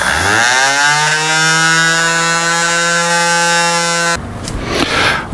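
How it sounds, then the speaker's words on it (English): A power sander levels wooden dovetail notches flush with a bookshelf surface, a loud steady electric whine with a rising pitch at start-up, then cutting off into rough scraping near the end. "With these surfaces sanded level"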